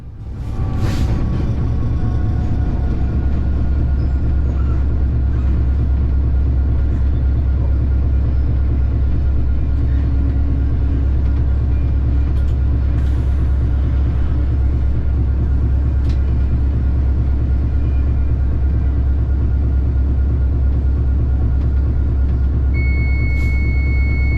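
A train rolls through south London near Clapham Junction heard from the driver's cab on a run from East Croydon toward Acton Lane, a constant heavy low rumble with faint squeals and clanks above it.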